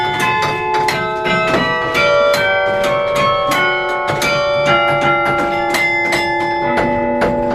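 A carillon in Douai plays a tune of bright, ringing bell strikes in quick succession, each note struck sharply and left to hum and overlap, loud and close, with no voices.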